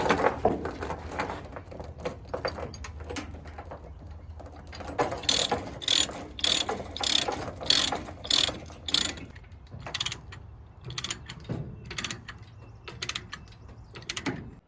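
Ratchet straps are cranked tight to secure a tractor on a trailer, with loud, close bursts of rapid metallic clicking, repeated in rhythmic pumps and broken by short pauses and a few jangles.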